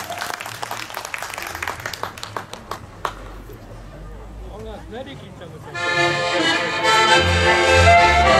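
An outdoor crowd at a Beskid culture festival claps for a folk band with bursts of close, sharp claps, then a lull, before loud, tonal folk music swells in under a voice.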